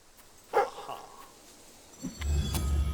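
A dog in the video game Fable III gives a sharp bark followed by softer whimpering yips, then a low rumbling background rises over the last second.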